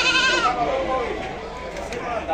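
Goats and sheep bleat at a livestock fair in Sumé, Paraíba, with wavering cries close by while someone talks over them.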